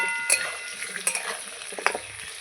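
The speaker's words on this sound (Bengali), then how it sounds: "লবণ দিয়ে আরেকটু নাড়িয়ে নেব" Potatoes frying with salt, stirred in a pan: a light sizzle with several distinct clinks and scrapes of the spoon at irregular intervals, close by.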